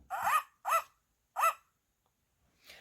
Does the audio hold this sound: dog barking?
yes